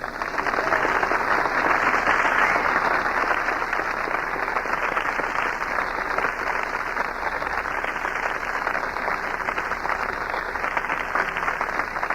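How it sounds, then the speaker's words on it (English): An auditorium audience applauds for Martin Luther King Jr. at a university speech, a dense, even roar of clapping that holds steady and loud throughout without talk. "Thank you very kindly for your heartwarming applause."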